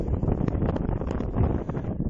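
Wind gusting on a hilltop in the Dragan Valley, Romania, heavy low rumbling buffeting against the microphone with faint rustling, continuous and close, with no speech.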